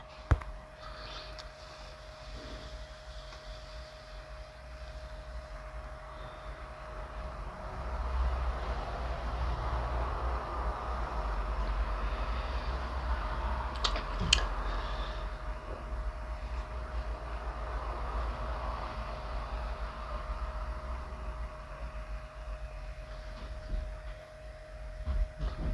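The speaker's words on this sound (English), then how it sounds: "Amtrak's Silver Meteor came into view" Amtrak's Silver Meteor passenger train, a long consist of coaches and sleeper cars bound for Miami, rumbles past at a distance, a faint steady roar that swells in the middle, with a sustained horn-like tone throughout.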